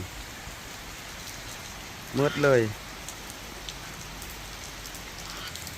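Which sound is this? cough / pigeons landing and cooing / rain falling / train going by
rain falling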